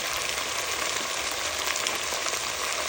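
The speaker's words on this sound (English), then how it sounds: "I'm gonna fry this up" Ground turkey seasoned with black pepper and salt frying in a pan, a dense, continuous, even sizzle heard up close with no talk.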